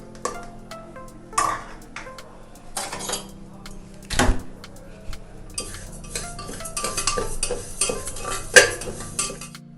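A metal spoon scrapes and clinks against a hot pressure cooker as mung dal is fried and stirred, with irregular close-up knocks and rattles and a faint sizzle underneath; no one speaks.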